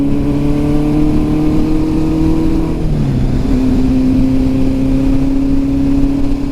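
A Honda CB750 motorcycle engine idling and running smoothly, a loud, steady, even drone with low vibrating hum that dips briefly in pitch midway, close by and alone without talk.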